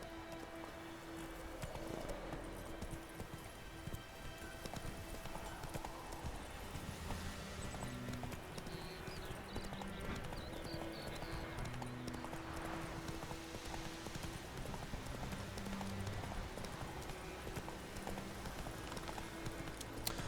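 Hooves of Roach, Geralt's horse in The Witcher 3, clip-clop faintly near a trough in a quiet, continuous patter beneath soft ambient game sound.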